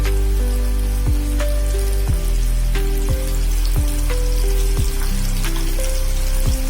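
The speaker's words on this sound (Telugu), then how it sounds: "ఇది సిమ్ లో హైలో పెట్టి ఫ్రై చేయాలి ఫ్రెండ్స్" Popcorn chicken fries in hot oil, giving a loud, dense, steady sizzle close by with scattered pops and crackles throughout, and no talk.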